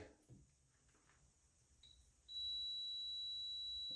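A continuity tester sounds a steady high electronic beep while checking a slightly corroded neutral safety switch plug on a Borg Warner T5 manual transmission from a Mustang GT, starting abruptly and holding loud and close after a quiet lead-in.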